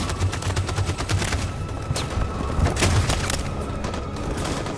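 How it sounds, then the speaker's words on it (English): Video game gunfire from Detroit: Become Human: a dense, continuous burst of overlapping shots and cracks crowds the whole stretch, loud and close. "I'm gonna shoot him, alright?"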